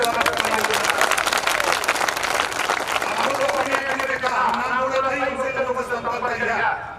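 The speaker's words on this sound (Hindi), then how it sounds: "जोरदार ताली बजा के स्वागत करेंगे।" Crowd at a political rally in Gaura Bazar, Varanasi, clapping loudly in welcome, dense applause for the first few seconds that thins as a voice over loudspeakers carries on above it.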